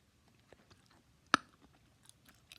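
Bubble gum is chewed softly and close, with quiet wet smacks and one sharp snap partway through, in an otherwise hushed setting.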